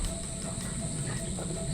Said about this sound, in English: Cicada?